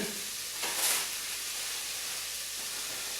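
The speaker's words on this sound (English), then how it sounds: "just going to put a little bit of colour on the onion" Onion seasoned with salt and pepper frying in a pan for keema jalfrezi, a steady broadband sizzle and hiss with a brief louder burst near the start, close and continuous with no talking.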